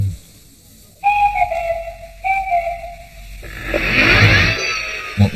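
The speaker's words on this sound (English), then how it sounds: "reading those peculiar sounds of the swanny whistle" A swanee whistle plays the Clangers' sliding, wavering tones in two clear, separate phrases, loud and close, followed by a breathy rushing noise.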